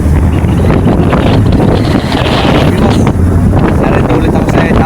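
Strong wind at sea batters a boat in big waves, a loud constant roar of gusts buffeting the microphone with rushing water beneath and voices faintly mixed in.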